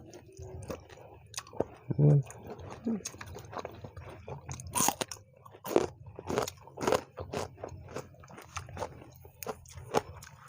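Crunchy chewing and biting on squid served with spicy seafood dip, close and fairly quiet, with irregular crisp crunches in bursts and soft mouth sounds between them.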